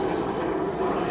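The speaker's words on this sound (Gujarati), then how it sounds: "જો તો મિત્રો હેલિકોપ્ટર" A helicopter passes overhead as a steady, moderately distant rotor and engine drone, continuous through the brief moment.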